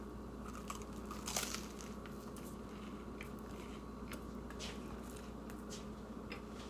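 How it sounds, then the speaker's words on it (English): Biting into homemade garlic cheesy bread, followed by soft, steady chewing close to the mic, with one crisper crunch early on over a low constant background hum. "Let's get one more bite of this garlic cheesy bread that we made here."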